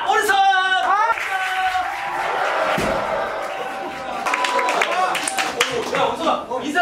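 Concert audience at a small acoustic band's solo show clapping hands in a rhythmic practice round, claps rising over cheering and a shouted voice, fairly close and lively.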